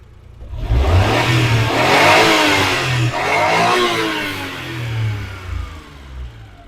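Daewoo Damas van engine after a fuel-injector installation, revving up and holding a strong mid-pitched drone, then easing off; loud, close and steady, with no talking.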